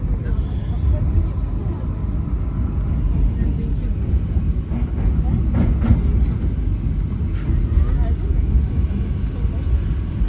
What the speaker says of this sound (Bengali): আরেকটা মেট্রো রেল যাচ্ছে।